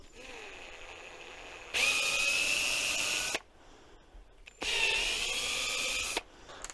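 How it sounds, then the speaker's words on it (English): A power drill enlarges holes in a lawnmower starter solenoid, running in two loud, steady high-pitched bursts of about two seconds each, separated by a short pause. "I'll just have to drill out the holes a little bit"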